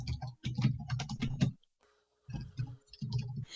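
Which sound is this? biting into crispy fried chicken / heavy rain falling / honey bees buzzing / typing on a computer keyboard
typing on a computer keyboard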